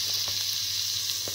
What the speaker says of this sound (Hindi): इसे अच्छी तरह से भून लें जब तक हमारे टमाटर गल ना जाए।